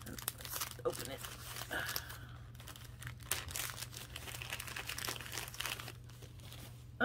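A crinkly package from a thrift store haul is opened by hand, with rustling, crinkling and tearing plastic close by and a low steady hum beneath, interrupted now and then by speech.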